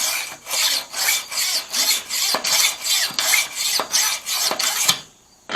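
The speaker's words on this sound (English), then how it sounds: "put the Arkansas stone on it flat up, so that it just rubs that back" Cheap dollar store scissors rubbed against a medium Arkansas sharpening stone, about fifteen rhythmic back-and-forth rasping strokes, close and even, ending in quiet.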